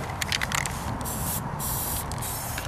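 Steady close hiss of propellant being sprayed into a potato gun for a physics project, continuous and fairly quiet for a few seconds.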